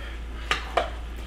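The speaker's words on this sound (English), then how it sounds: "let me just stir that around" A utensil knocks twice against a pan while lemon juice is stirred into the food, two quick close clinks over a low steady hum.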